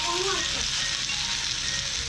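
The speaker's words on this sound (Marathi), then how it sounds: "एक वांग्या घेतल्यान त्याच्यात मीठ मसालो घातल्यान आणि डायरेक्ट तव्यावर परतल्यान." Brinjal slices seasoned with salt and masala fry on a hot griddle, giving a steady, close, dense sizzle throughout, with no talk over it.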